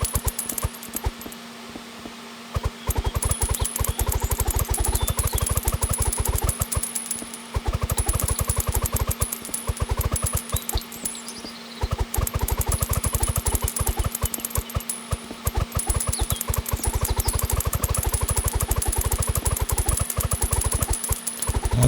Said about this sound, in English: So if I take the leaf blower, just start blowing it.